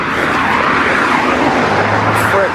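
Early-morning road traffic during a run, a broad steady rush of cars passing nearby with a low engine rumble rising toward the end, loud and continuous, with some speech underneath.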